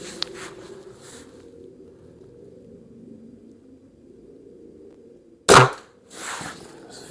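An Air Arms TX200 Mk3 .177 air rifle fires once at a spinner target, giving a sharp close crack. A faint metallic clank follows, set against a quiet outdoor hum.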